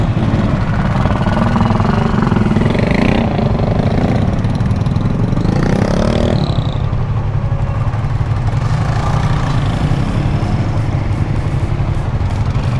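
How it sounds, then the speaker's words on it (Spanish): Several motorcycle engines idle and rumble steadily close by, with revving swells as motorcycles pull past, continuous throughout. "Las motos ya pueden pasar."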